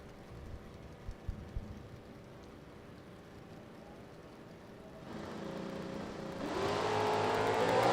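A Chevrolet Camaro muscle car sits idling on a drag strip starting line, its engine rumbling low, then rising sharply into a loud, sustained revving launch toward the end.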